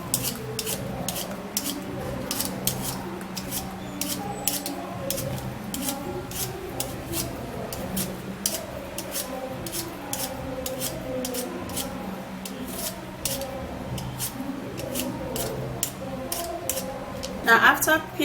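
A potato is peeled by hand with rapid repeated scraping strokes, close and continuous, while a person talks throughout.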